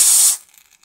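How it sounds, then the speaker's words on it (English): A can of freezer spray hisses out in one loud, close burst for about a third of a second while cooling a thermistor, then cuts off, leaving faint ticking. "Let's get that freezer spray."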